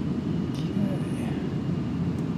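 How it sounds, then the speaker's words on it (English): Large airplane in flight as its engines increase power, giving a steady broad roar inside the aircraft, with a voice talking over it. "I'm asking for a little bit of power, and we're almost immediately starting to see a response from the airplane"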